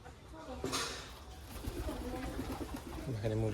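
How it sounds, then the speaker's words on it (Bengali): Pigeons coo and flutter at a chicken and pigeon coop at a village home in Gournadi, Barisal, close and fairly soft, with a person talking over them. "এই যে কবুতর উঠতেছে।"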